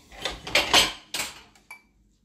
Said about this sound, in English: Okay, we'll add some egg whites.